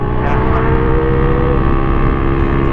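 A Honda ADV160 motor scooter's engine running close by on a mountain road ride, a loud, steady drone with a sustained buzzing tone and no clear rises or pauses.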